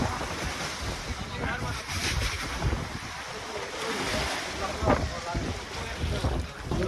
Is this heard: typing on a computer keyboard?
no